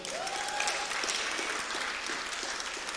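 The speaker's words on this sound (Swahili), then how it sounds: "Pigieni huyo jamaa makofi." A conference audience at Harvest Con 2022 claps in steady, dense applause that stays loud throughout.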